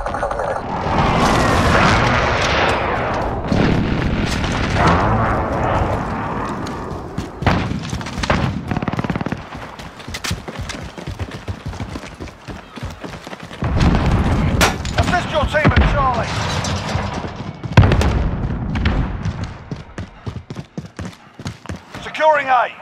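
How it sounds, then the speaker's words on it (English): Precision airstrike explosions roll through a Call of Duty Modern Warfare multiplayer Domination match as a series of loud, heavy booms and rumbling blasts, mixed with gunfire and game announcer voices across a dense, chaotic battle. "Be advised, friendly precision airstrike inbound."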